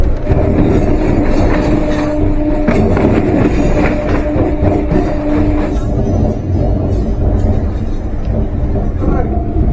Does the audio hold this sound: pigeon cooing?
no